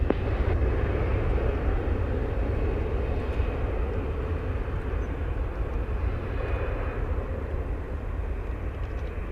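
A Boeing 777-300 jet lands at Montego Bay, Jamaica, its engines a loud, steady, broadband roar that holds without a break and stays close throughout.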